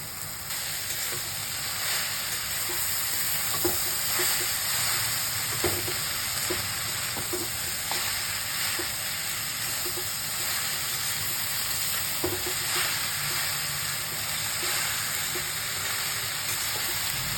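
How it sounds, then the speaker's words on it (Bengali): Taro (kochu) pieces fry in a pan with turmeric and salt, a continuous hissing sizzle broken by occasional light knocks of a utensil as the pieces are stirred. "সব কিছু হালকা ফ্রাই হওয়ার পর দিয়ে নেব কুড়িয়ে রাখা কচুগুলো"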